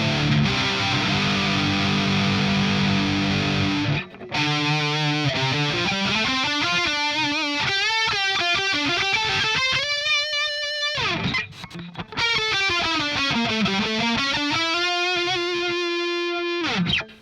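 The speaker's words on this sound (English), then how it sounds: "The only difference really with some of the lead parts is that it has that chorus kicked in, which sounds something like this." Distorted electric guitar lead tone with chorus effect through a budget death-metal rig, playing loud, sustained melodic lines with bending pitches, broken by a few brief pauses.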